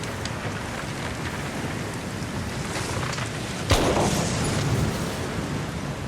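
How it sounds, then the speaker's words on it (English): A single sharp blast from a wet black powder gun cracks out in the woods, fairly close, standing briefly above a steady wash of rain and rumbling ambience. "I heard a gunshot that was pretty close."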